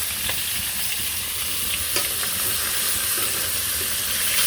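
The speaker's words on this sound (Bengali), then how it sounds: "এই কারণে মাছও দিয়ে দিচ্ছি চুলাই।" Fish fries on a village stove, a steady close hiss and crackle with occasional small pops running throughout.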